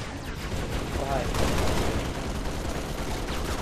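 Continuous, loud gunfire in the Halo Reach video game, a dense rattling volley of shots aimed at the floor that fills the whole stretch without a pause.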